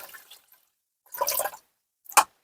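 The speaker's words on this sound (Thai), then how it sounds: "เทน้ำออกนะคะ" Water is drained off cooked Chinese kale in a home kitchen, heard as a few short, close splashing pours with a quick final drip-like burst, no talk.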